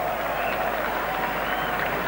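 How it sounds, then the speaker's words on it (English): A stadium crowd at a Five Nations vs Overseas XV rugby match cheers and applauds in a continuous, dense roar, steady and loud throughout the short stretch. "Great cheer for Serge Blanco"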